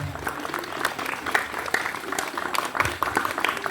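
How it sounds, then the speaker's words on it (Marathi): A crowd applauding, a dense patter of many hands clapping steadily for a few seconds, with faint voices mixed in. "प्लीज टाळ्या वाजा"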